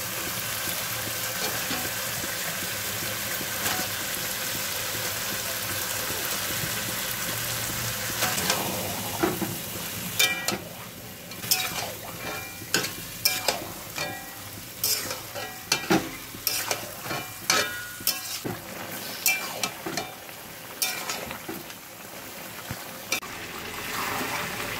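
Chicken being stir-fried in a spice masala in a pan, with a steady loud sizzle at first, then repeated scraping and stirring strokes in an irregular rhythm, close up with no talking.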